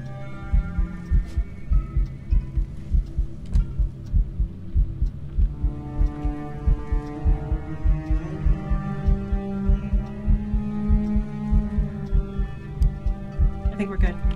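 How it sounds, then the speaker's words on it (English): Rhythmic low heartbeat thuds from a Phasmophobia ghost hunt pulse steadily under a droning hum, with people talking over it throughout. "because I still hear a heartbeat"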